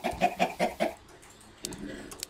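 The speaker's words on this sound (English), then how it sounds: "I just killed a chicken." A Minecraft chicken clucks five times in a quick, evenly spaced burst, fairly close, before falling quiet into faint game ambience and a couple of soft clicks.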